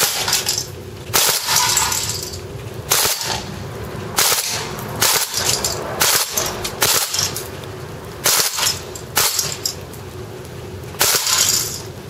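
A WE M14 airsoft rifle fires BBs on full auto at close range in sharp, loud bursts of rapid cracking shots, separated by brief gaps over about twelve seconds.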